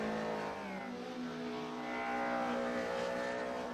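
Rallycross race cars tear around a track with sustained, rising engine roar and shifting revs, heard at a moderate distance with no voices.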